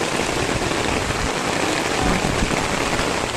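Heavy rain pours steadily onto the damaged roof of a rural house, a dense, unbroken hiss of drops that stays loud and even throughout, with no voices.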